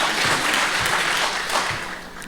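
Audience applause at a 2019 mayoral primary election debate in Edmonds, a steady broadband patter of clapping that holds for a couple of seconds and eases slightly toward the end.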